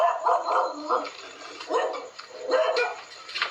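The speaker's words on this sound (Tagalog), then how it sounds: "May aso." A dog barks and yips in several short bursts, close and fairly loud, with brief gaps between.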